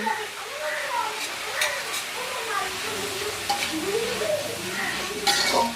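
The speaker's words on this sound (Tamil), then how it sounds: "தக்காளி பழத்தையும் போட்டு சேர்த்து வதக்கணும்" Tomatoes sautéing in a pan for a meat devil, a steady close sizzle broken by scraping stirs and occasional clinks of a utensil against the pan, with someone talking over it.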